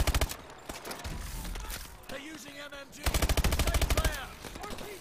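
Rapid bursts of automatic gunfire in Call of Duty: Advanced Warfare come in two clear volleys separated by a short gap. In between there is a mix of game effects and voice sounds.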